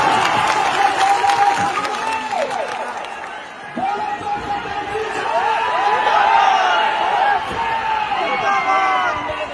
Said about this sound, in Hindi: एक बार ताली बजा के